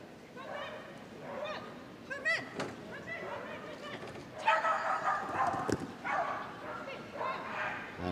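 A Hungarian Mudi barks repeatedly during an agility run at Crufts, sharp rapid yaps over a noisy indoor arena crowd, with an announcer talking throughout.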